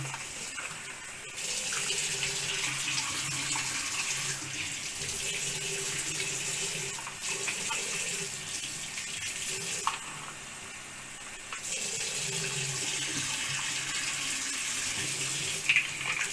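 A tap runs steadily as a dirty aquarium CO2 diffuser is rinsed under it, the water gushing into a sink with a couple of brief interruptions and changes in flow.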